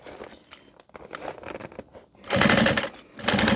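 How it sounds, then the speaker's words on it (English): A sewing machine stitching fabric at a quarter-inch seam, running in short close bursts with pauses, then longer loud stretches of rapid mechanical rattling. "I'm just going to sew this at 1/4 of an inch"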